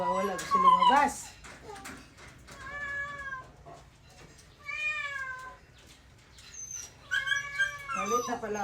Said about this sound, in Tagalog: Mga aso ko nagwawala. Gusto lumabas.